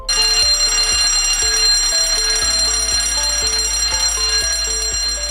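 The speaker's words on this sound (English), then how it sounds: "The fire alarm sounds like this." A fire alarm bell rings continuously and loudly, a harsh metallic clanging that persists throughout without pause.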